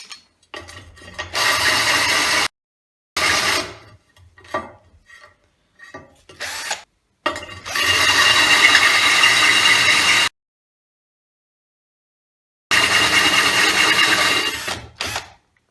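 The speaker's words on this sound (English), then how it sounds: "I'll just keep drilling now in a more vertical way." A carbide holesaw grinds through ceramic tile in several sustained bursts of drilling, the longest lasting a few seconds, separated by silent pauses and short scraping rubs as dust is cleared.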